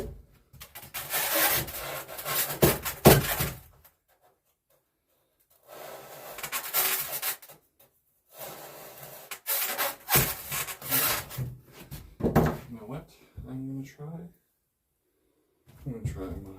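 A hand saw rasps through wood while rebuilding a water-damaged RV floor, in several bursts of back-and-forth strokes separated by silent gaps, close by.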